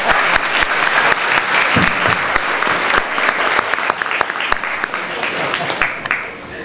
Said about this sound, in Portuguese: É um alto aplauso, mas é merecido.